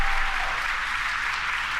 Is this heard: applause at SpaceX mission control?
yes